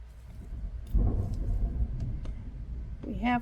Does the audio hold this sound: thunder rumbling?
yes